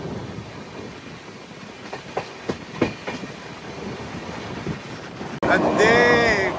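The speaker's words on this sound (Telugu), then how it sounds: "బండి ఇక్కడికి వచ్చేటప్పటికి స్లో అయింది." The Jodhpur to Tiruchirappalli Hamsafar Express slowing on the rails near a coal crusher house, heard from inside as rumbling wheels with a few rhythmic clacks, then a louder burst of wind and a rising tonal squeal near the end.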